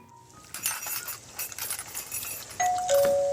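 A doorbell rings at a home's front door, two clear electronic tones sounding one after the other near the end, following a stretch of faint clinking and rustling.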